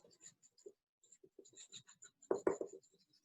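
Pencil or marker scratching across paper as a child's earth scene is drawn along the bottom of the page, a run of short close strokes ending in two louder, firmer scrubbing strokes, with no talk.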